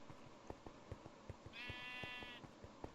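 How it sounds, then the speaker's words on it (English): A Minecraft sheep lets out one drawn-out bleat, faint and somewhat distant over a quiet, steady background with soft intermittent ticks. "Shut up, sheep."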